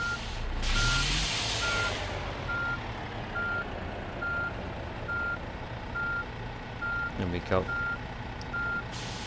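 Reversing beeps from a truck in a truck simulator game, a steady series of evenly spaced electronic beeps over a low engine idle, with a brief air hiss early and a short spoken word.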